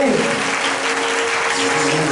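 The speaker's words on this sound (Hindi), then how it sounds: "अब जोरदार यीशु मसीह के लिए ताली बजाएंगे" A church congregation claps loudly and steadily together in praise of Jesus Christ, a dense and continuous wash of applause with voices mixed in.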